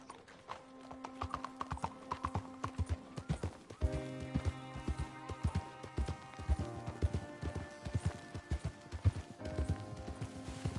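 Rhythmic clip-clop of horse hooves trotting steadily over hard ground in Red Dead Redemption 2, up close, with a soft musical background.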